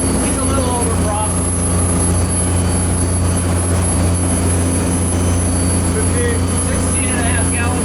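A boat's engine runs steadily at full RPM, about 1760, during a sea trial at 15 knots, a loud continuous drone with strong low harmonics throughout, while people talk over it.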